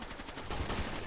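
Short, quiet run of gunshots in a shooter video game: a few muffled, rapid reports over a dull background rumble, with no talking.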